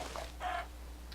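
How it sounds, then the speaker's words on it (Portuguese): A Minecraft chicken clucks quietly in short, soft bursts within the game, faint and brief with no speech over it. "Opa, a galinha. Vou pegar a galinha."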